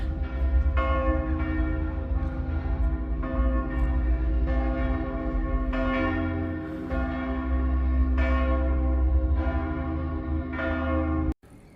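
Church bells in Copenhagen ringing loudly and steadily, repeated strikes overlapping in a continuous peal with a low hum beneath, ending abruptly.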